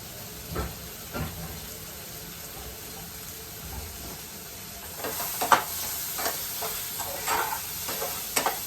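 Vermicelli upma ingredients are stirred and sautéed in a pan, giving soft sizzling with scattered scraping and clinking strokes that grow busier toward the end.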